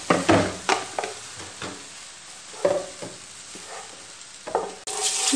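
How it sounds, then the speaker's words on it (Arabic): Butter and oil melting and sizzling in a pan, a soft steady hiss broken by several clear scraping stirs and clinks of a utensil against the pan, fairly close, with no voices. "عملت هنايا الزبده والزيت يذوبوا"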